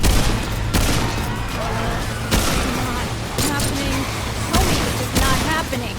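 Gunfire in the co-op video game Remnant II, repeated sharp shots at irregular intervals over a loud, dense game soundscape, with a player talking over it.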